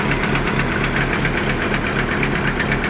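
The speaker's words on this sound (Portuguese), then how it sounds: "Tá aí um Monzão que eu comprei. Tá com o motor batendo." A 1995 Chevrolet Monza with a knocking engine runs at idle, a loud, close mechanical drone carrying a steady, rapid rhythmic ticking knock throughout.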